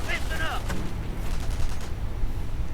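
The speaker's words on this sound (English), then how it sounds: "Mortar gunner firing away a bit." Mortar and rifle gunfire in a World War II strategy video game, with a dense crackle of shots and muffled blasts throughout and a brief whistling tone at the start.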